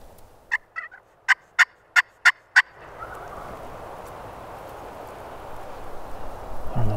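A wild turkey gobbles in a series of about six sharp, loud calls close by in an outdoor public-land setting, followed by steady rustling and ambient noise.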